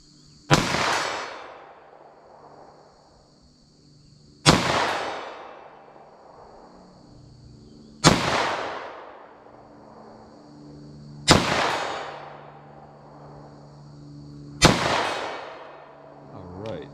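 Five loud, sharp 9mm pistol shots firing Corbon DPX copper bullets, spaced a few seconds apart, each crack followed by a decaying outdoor echo.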